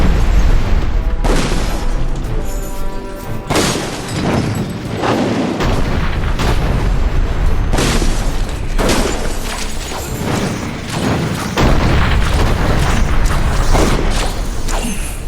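Cannons boom repeatedly in the Dungeon Siege 3 video game, heavy blasts every second or two over a dense, loud battle din with no talking.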